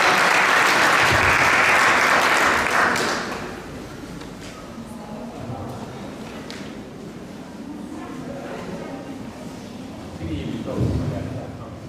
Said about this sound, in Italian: Brava, facciamogli un applauso di incoraggiamento.